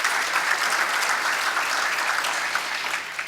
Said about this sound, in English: Let's have a round of applause for that as well.